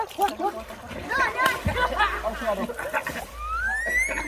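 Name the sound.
water splashing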